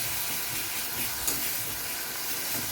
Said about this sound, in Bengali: জিরে তেজপাতা ফোড়ন দিলাম